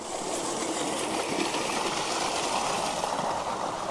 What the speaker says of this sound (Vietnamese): Trời ơi, suối này sao đi được ta,